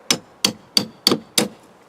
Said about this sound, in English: I push it underneath like so, tap it with a hammer,